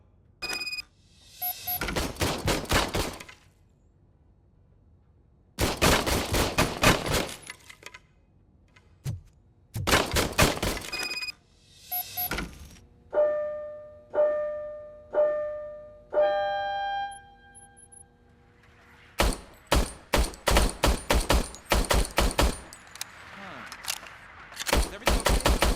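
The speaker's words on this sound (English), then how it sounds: "I was issued this old gun and serviced it according to the manual. I will try it out." Gunfire from an old issued service pistol in the RoboCop: Rogue City video game: several sharp, loud bursts of shots separated by silent gaps, with a run of short electronic beeping tones in the middle.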